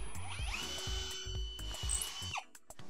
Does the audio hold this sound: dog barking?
no